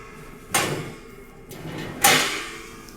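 Two slide-out storage bins in a Norwegian Luna cruise ship stateroom are pulled open one after the other, each giving a short scraping slide with a soft knock, in a quiet cabin.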